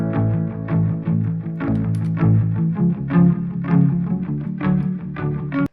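Electric guitar played through distortion effects, a thick, saturated riff with sustained chords and rhythmic note changes, loud and upfront with no other voices, ending abruptly.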